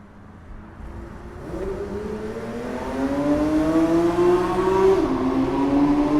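A Porsche 992 GT3 revs hard toward 9,000 RPM inside a tunnel, its engine note climbing steadily in pitch and loudness with a brief dip at a gear change before pulling higher again, loud and echoing, with no voices.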